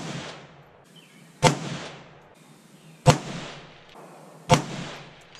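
An AR rifle chambered in 7.62x39 fires three loud, sharp shots outdoors at a range, spaced about a second and a half apart. Each crack is followed by a rolling echo that decays before the next shot, and no one speaks.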